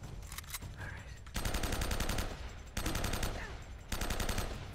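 Gunfire in the video game Uncharted: Drake's Fortune, sustained bursts of rapid automatic fire in several long stretches with brief gaps, loud and close.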